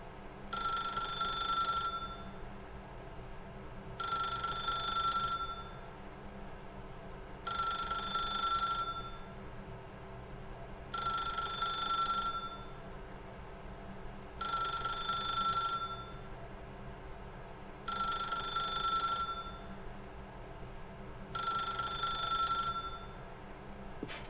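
An old-style telephone bell rings in The Stanley Parable video game, seven loud, evenly spaced bursts of about two seconds each, separated by short gaps over a steady low room hum.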